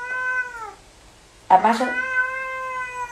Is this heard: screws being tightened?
no